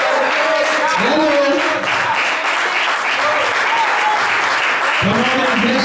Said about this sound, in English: Come on and bless God with a clap of you.